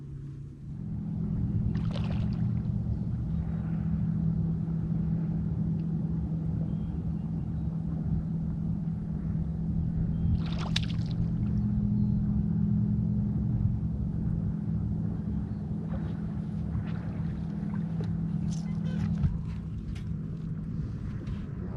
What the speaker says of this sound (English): the trolling motor just kicked up mud